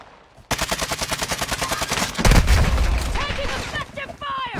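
Rapid automatic gunfire in the video game Fortnite, a dense close burst of shots with a heavy boom midway, then more scattered shots, with a voice speaking over it.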